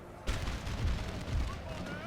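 Cannon fire in Napoleon: Total War: a sudden heavy boom, followed by several more deep thuds and rumbling in quick succession, loud and close, with battle ambience and talk over it.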